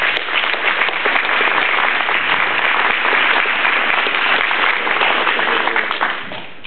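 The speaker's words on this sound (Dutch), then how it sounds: "voor ik begin, voor hen een applaus willen vragen." Audience applauding for the culture council at a speech ceremony, dense sustained clapping from a crowd that holds steady for several seconds and then begins to fade, without any speech.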